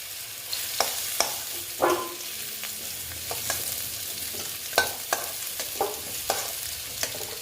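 Pumpkin pieces fry in hot oil with a steady crackling sizzle, broken by a series of sharp clinks and scrapes from stirring.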